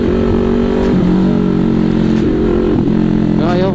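Motorcycle fitted with an SC Project muffler idling and blipping the throttle, a loud, steady rumbling exhaust with small rises in pitch, recorded up close with no pauses.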